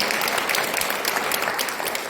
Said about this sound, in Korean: 우리 정성호 성령님에게 더 박수 한번 드리기를 바랍니다